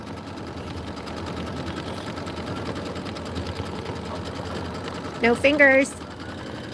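A Baby Lock Aveneer Lumina sewing machine runs steadily, stitching quilt sashing with a fast, even mechanical whir close by, while a person talks briefly over it.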